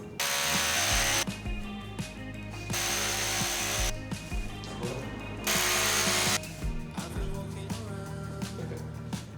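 Power drill fitted with a masonry bit boring into a wall, loud whining bursts in three long runs with grinding rattle and pauses between, close up.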